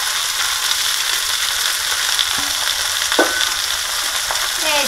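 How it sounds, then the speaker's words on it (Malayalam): Washed drumstick leaves tossed into a hot frying pan with onions and stirred, making a loud, continuous sizzle with a few scraping strokes of a spoon against the pan. "ഇനി കഴുകിയതാണ് ഇട്ട് കൊടുക്കുവാണ് ഇലകള്"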